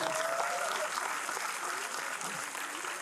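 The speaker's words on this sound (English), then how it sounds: "That deserves a bigger clap than that." Audience applause at a talk-show style event, a lively steady round of clapping from a crowd with faint voices mixed in underneath.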